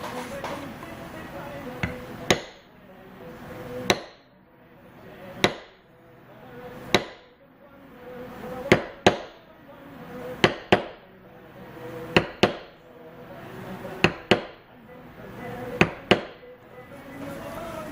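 A leather beveling tool is hammered along a tooled leaf pattern, giving sharp close mallet strikes at a steady, unhurried pace of roughly one every second or two, with a short decaying ring after each blow.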